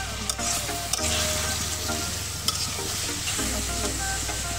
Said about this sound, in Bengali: প্রথমে পেঁয়াজটা ভালো করে তেলে ভেজে নেওয়া হচ্ছে